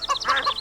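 Chicken clucking in The Witcher 2 video game, a quick run of short, close chirpy clucks in a bouncing rhythm, heard alone.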